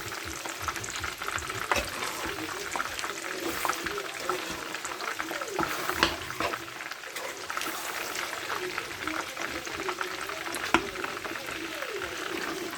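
Mutton pieces frying in a pan for biryani while being stirred, giving a steady, close, loud sizzle with busy crackles and occasional scraping from the spoon throughout.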